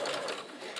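A sewing machine stitches an English (French) seam half a centimetre from the fabric edges, a steady close mechanical whir that runs throughout.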